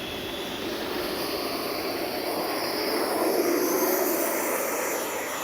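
An FMS Avanti S 90mm RC jet, 18th-anniversary edition, takes off and climbs steeply with gear up, its ducted-fan roar steady and loud throughout, swelling slightly as it pulls away.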